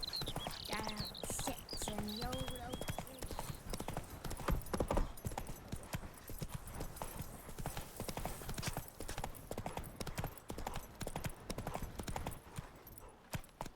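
Hoofbeats of the horse Roach trotting in The Witcher 3, a steady clip-clop rhythm of hooves close by, with ambient game sound and a brief whinny-like tone near the start.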